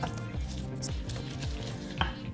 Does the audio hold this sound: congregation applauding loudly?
no